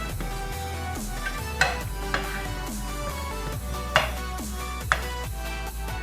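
Cookies browning in oil in a pan while making mole, a steady soft sizzle with a low hum underneath and a few brief clinks of a utensil against the pan.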